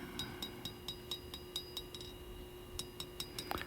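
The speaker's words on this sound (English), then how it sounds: "we can go ahead and hammer in our bevels." Quiet, evenly spaced metallic taps ring out in a steady rhythm as a hammer forges the bevels of a knife blade, pause briefly, then resume with several more light strikes.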